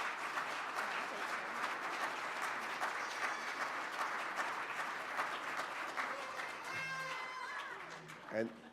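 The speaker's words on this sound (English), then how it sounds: "I'd like you to give her a round of applause for her giving to the Rotary Foundation" A Rotary Club of Tulsa luncheon audience gives a round of applause for Rhonda's giving to the Rotary Foundation: steady, dense clapping filling the room, tapering off toward the end, with a few voices emerging over it.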